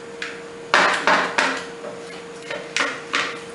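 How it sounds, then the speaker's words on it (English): A silicone spatula scraping melting chocolate off the sides of a pan: about eight short scraping strokes and soft knocks in uneven rhythm, close and fairly clear over a faint steady hum. "I'm using this silicone spatula because it's easy to scrape off from these sides"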